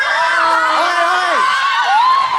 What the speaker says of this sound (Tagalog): Mag-cheer na kayo.